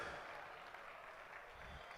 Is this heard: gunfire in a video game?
no